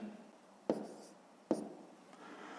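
A pen writes numbers during a multiplication exercise, two sharp taps of the tip hitting paper followed by short scratchy strokes, close and quiet.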